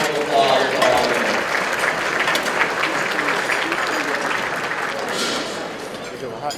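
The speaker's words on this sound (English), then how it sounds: "I'd like a round of applause for all of them." An audience at the 2012 Mayor's Business Luncheon gives a round of applause for recognized partners: dense, steady clapping from many hands that fills the room and slowly fades.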